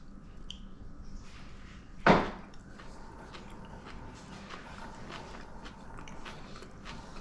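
A single bite into pickled fish with onion, one short, sharp crunch near the mic against a quiet, steady room background.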